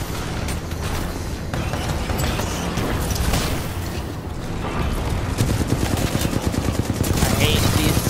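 Gunfire in the video game Titanfall 2, dense rapid automatic shots and booms layered over constant loud game noise for several seconds.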